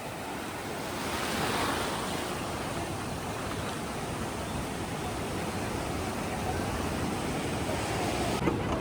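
Ocean waves roll onto Vodarevu Beach at Chirala, a continuous broadband roar of surf with gentle swells, fairly loud and close, with some wind buffeting and no speech.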